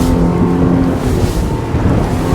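A Lomac Adrenalina 7 boat runs offshore at speed into a corner, its engine a steady, loud, close roar mixed with wind and water rush.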